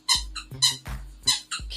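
A cat's squeaky toy squeaks in four or five sharp, bright bursts at an uneven pace, close and fairly loud, with soft thumps between squeezes.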